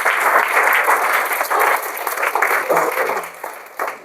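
A seated audience at a talk gives a round of hearty clapping, thick and sustained at first, then thinning into scattered claps with a brief late burst near the end.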